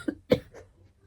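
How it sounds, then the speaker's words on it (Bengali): A single close cough from a person with a cold and a sore throat, short and hoarse, with a faint catch of breath just before it and quiet afterward. "এখন এই কাশছি, কাশতে কাশতে আস্তে আস্তে বেরোচ্ছে"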